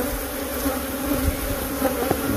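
Honey bees buzz around a hive in spring, a dense, continuous droning hum of many insects close by, steady with small swells as individual bees pass near.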